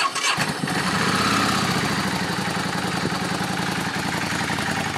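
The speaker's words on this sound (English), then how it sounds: "this is a quick video on the first startup of the year" A cold engine, choke on, makes its first start of the year after sitting since November: a short crank catches almost at once and settles into a loud, steady, close idle that keeps running to the end.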